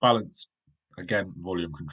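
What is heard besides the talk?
No everyday noise stands out behind the speech.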